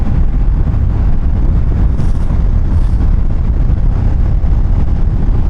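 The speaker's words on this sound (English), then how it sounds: "it's very windy down this way" Heavy wind buffets the microphone while riding a Kawasaki ER6F motorcycle, a loud constant low roar with the engine buried beneath it and no speech.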